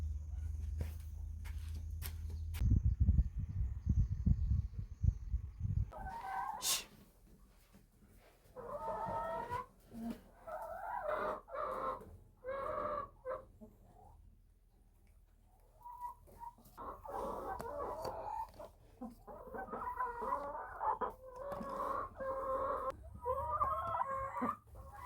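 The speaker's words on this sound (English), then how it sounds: "The rooster is definitely having a rough time dealing with these queens." Chickens cluck and squawk in a busy flock while a rooster crows, with a few bumps and footsteps early on and no speech.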